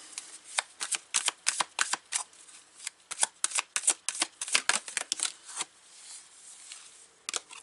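A deck of oracle cards being shuffled by hand, a close run of crisp riffling and slapping bursts in an irregular rhythm with short gaps, alone with no talking.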